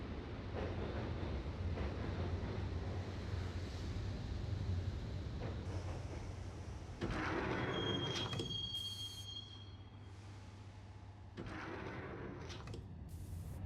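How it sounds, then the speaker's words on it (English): A subway train ride in the 2001 PC game Max Payne rumbles low and steady, with a thin wheel squeal partway through and doors sliding, then the rumble quiets. "the train doors had already shut behind me, and I was in for the ride"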